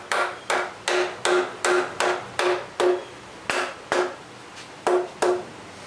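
Hammer tapping lightly on a Buick 455 engine's cylinder head during removal, about a dozen sharp ringing metallic strikes in a steady rhythm, close and clear with no talk.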